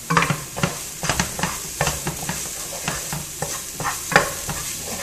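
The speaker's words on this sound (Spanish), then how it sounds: "Aquí seguimos friendo la cebolla con el ajo." Onion and garlic fry in a pan with a steady sizzle, punctuated by repeated scraping and clicking as a utensil stirs them. The sound is close and constant, with no talk.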